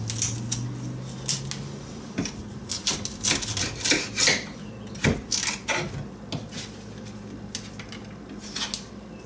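A knife or peeler scraping and rasping across a home-grown kohlrabi that resists peeling, with irregular clusters of short scraping strokes and a few sharper knocks over a low background hum.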